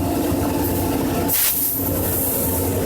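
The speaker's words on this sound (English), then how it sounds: "I wanted the engineer to throttle up quickly as he did just now" A diesel locomotive on the WW Railroad's C&M line throttles up as the train starts rolling, with a steady loud engine drone and a sudden burst of hissing air midway, no voices.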